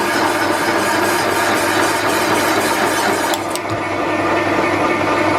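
A machine running at 240 RPM during restoration work on a blown motor makes a loud, steady mechanical whir with a faint regular pulse, briefly dipping midway before carrying on evenly.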